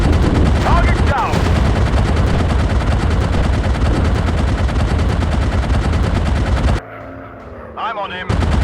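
Rapid, continuous machine-gun bursts from a fighter plane in an aeroplane combat video game roar loudly over engine drone for several seconds, then cut to a brief quieter pause with faint clatter.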